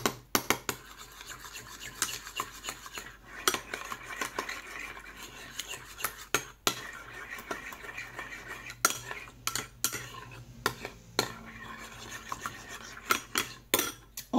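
A spoon stirs ingredients in a bowl for an Indian-style roast sandwich filling, with irregular metallic clinks and scrapes against the dish, fairly quiet and close.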